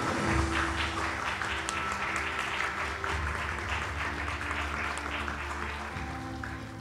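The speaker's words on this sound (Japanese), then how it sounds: "皆さん拍手でお迎えください。" Audience at a cinema talk event with director Naomi Kawase and producer Marianne Slot applauds to welcome the producer onstage, steady sustained clapping filling the room throughout, fairly close and even.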